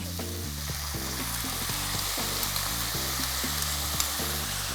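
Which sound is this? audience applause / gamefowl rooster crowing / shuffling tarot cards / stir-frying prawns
stir-frying prawns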